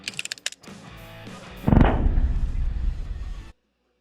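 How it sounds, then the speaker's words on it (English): A Staccato XC handgun fires supersonic 9mm rounds at a Cybertruck outdoors, with sharp rapid cracks at first, then a loud booming blast that rolls on before cutting off abruptly. "Now for supersonic 9mm, we're gonna be using my Staccato XC."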